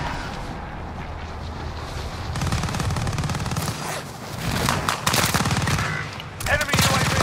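Sustained automatic gunfire in Call of Duty Warzone on Rebirth Island, dense rattling bursts that swell and overlap with other shots, loud and continuous throughout the scene.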